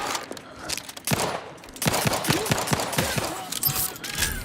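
Rapid gunfire in the Outer Worlds 2 video game, a dense stream of loud shots that continues almost without a break.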